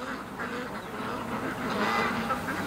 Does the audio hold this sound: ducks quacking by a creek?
yes